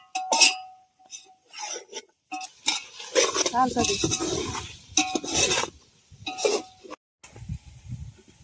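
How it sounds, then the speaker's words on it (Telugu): Vegetables including carrot, beans, potato and tomato being stirred in a cooking pot outdoors in a forest, with clattering utensil scrapes and clinks in short bursts, some louder than others, with a few quiet gaps. "మనం టమాటాలు అయితే వేసుకుందాం ఇంకోసారి అయితే బాగా కలిపెట్టుకోవాలి"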